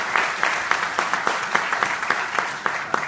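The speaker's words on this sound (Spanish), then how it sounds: "Yo les pediría otro aplauso para ella," An audience at a law faculty lecture on tax reform applauds Dr. Sonia Venegas, continuous crowd clapping with a few sharper individual claps standing out in a loose rhythm, sustained for about three seconds.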